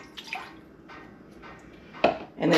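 One and a half cups of water poured into a shallow enamel-coated cast iron pan, heard as a few short splashes and drips that end in a louder splashing pour, up close.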